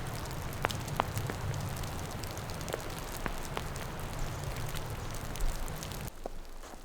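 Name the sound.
melting snow dripping from trees like light rain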